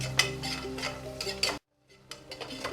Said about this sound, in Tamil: எல்லாத்தையும் அந்த வெங்காயத்துக்கு கூட சேர்த்து அந்த எண்ணெயிலே நல்லா வதக்கி விட்டுறலாம்.